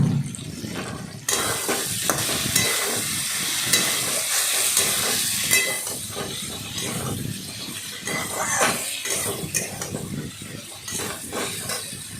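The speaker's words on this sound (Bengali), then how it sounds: "চারিদিকে নাড়িয়ে ভাজলাম আলু টমেটো" Potatoes and tomatoes are stir-fried in a pan: a loud, steady broadband sizzle runs throughout, with scattered clinks and scrapes from stirring.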